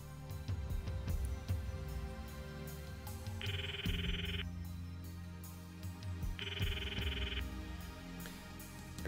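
A phone ringtone in the visual novel Steins;Gate rings in two short electronic trill bursts about three seconds apart, over quiet background music.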